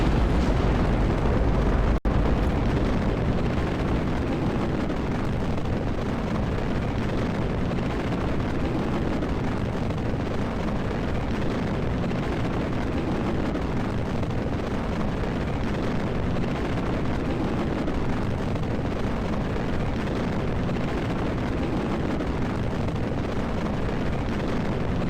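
A huge rocket launches in Kerbal Space Program as a steady, dense roar that holds loud and unbroken throughout, with a brief crackle near the start.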